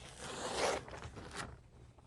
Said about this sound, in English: So let me just move this paper over.